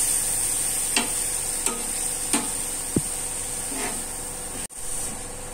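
Paneer stuffing being mixed with chili powder in a bowl: a few soft, spaced scraping strokes of a spoon over a steady background hiss, with no talking.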